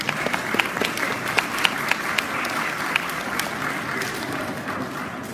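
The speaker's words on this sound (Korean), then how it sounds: "박수로 맞이해 주시기 바랍니다" Wedding guests applauding in a hall, a steady crowd of clapping with sharper individual claps standing out, continuous for several seconds without talk.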